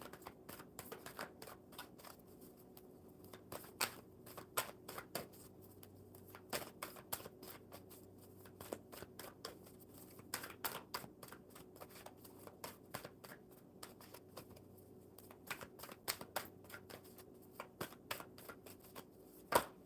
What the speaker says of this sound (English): one more good shuffle, Bella.